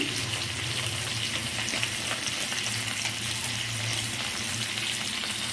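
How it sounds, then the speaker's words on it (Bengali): A bay leaf and a dried chilli fry in hot oil, producing a dense, continuous sizzle that stays loud and even from start to finish, with no voices. "এর মধ্যে তেজপাতা আর একটা শুকনো লঙ্কা দিলাম"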